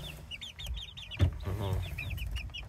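A young backyard rooster clucking in a pen among chickens and other small livestock, with repeated short clucks throughout over a low steady background hum, moderately close.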